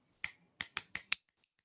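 Five crisp finger snaps in a quick, slightly uneven sequence, close and isolated, followed by a few faint clicks.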